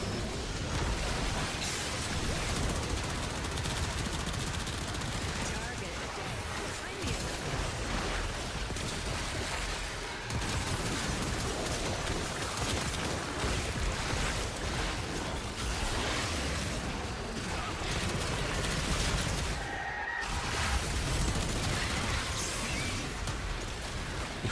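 Gunfire in the video game Warframe, a dense, continuous wash of shots and effects that fills the whole stretch at steady loudness, with no voices over it.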